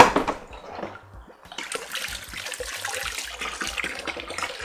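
Tap water runs steadily while a terrarium is being filled, a continuous splashing rush with irregular low gurgles underneath, close and fairly loud throughout.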